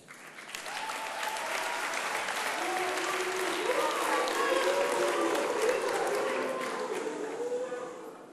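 A studio audience on a Macedonian Idol gala night bursts into sustained, dense applause for the band, swelling and holding steady for several seconds with a voice faintly audible over the clapping.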